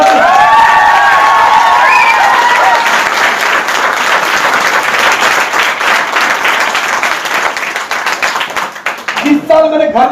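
Loud audience applause and cheering at a large training seminar, a dense sustained roar of clapping with shouts mixed in, thinning toward the end as a voice speaks over it.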